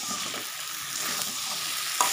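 Potatoes and paneer with sour yogurt sizzle steadily in a pan, with light scraping stirs and one small clack near the end, close and alone.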